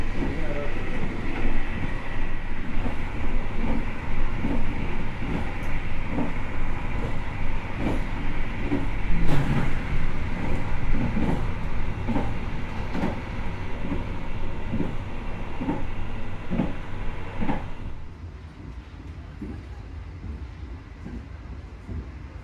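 Argo Semeru executive train running on rails near Kertosono station, a steady loud rumble with rhythmic clickety-clack of wheels over rail joints throughout, easing off and quieter in the final seconds.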